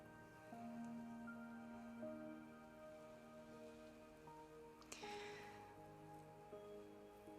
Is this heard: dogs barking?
no